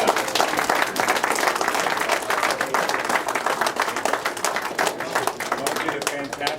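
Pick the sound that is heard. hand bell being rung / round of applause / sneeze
round of applause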